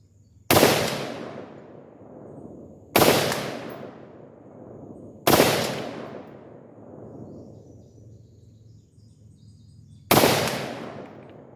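Four sharp rifle gunshots from a Bear Creek Arsenal 878N 11.5-inch upper, fired at a target at spaced intervals, each loud crack trailing off in a long reverberant decay with no talking.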